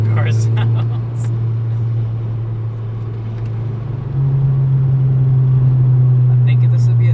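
A Volkswagen Golf R Mk6 on a dark road, its engine holding a deep steady drone that steps up in pitch and loudness partway through, with a few brief sharper noises on top.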